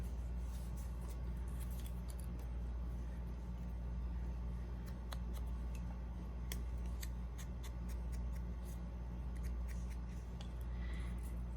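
Scissors snip paper for a handmade mini album, with scattered crisp, brief cuts over a steady low room hum.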